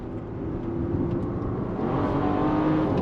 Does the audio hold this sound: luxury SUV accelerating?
yes